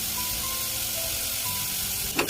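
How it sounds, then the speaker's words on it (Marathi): Onion, green chilli, asafoetida and turmeric sizzle in hot oil for a broccoli stir-fry, giving a close, steady, unbroken hiss, with a couple of sharp utensil clatters right at the end. "कांदा टाकून घेते आणि मिरची पण टाकते. म्हणजे सगळं एकदम भाजून घेते."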